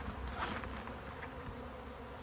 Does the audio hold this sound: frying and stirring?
no